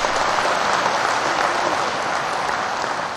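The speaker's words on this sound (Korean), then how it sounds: "박수." Sustained applause from an assembled audience at a clan leaders' gathering, a dense, steady clapping throughout at close range.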